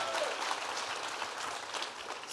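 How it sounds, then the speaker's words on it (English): Applause from a live podcast audience at a crafting convention, a fairly faint, even patter of many hands continuing for a couple of seconds without speech. "Give a round of applause on that."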